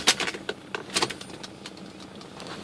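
A Mercury Grand Marquis cranks but fails to start, a series of close, uneven clunks and ticks fading into a low hum, with no voices.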